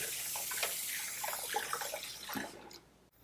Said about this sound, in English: we're gonna wash our hands now